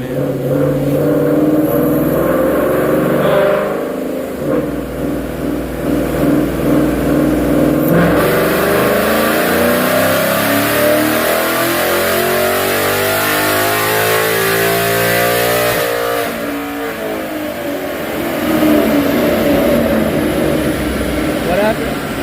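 A 2018 GT with a ported manifold revs hard on a dyno, its loud engine and exhaust climbing and falling in pitch through long, sustained pulls, with voices talking over it.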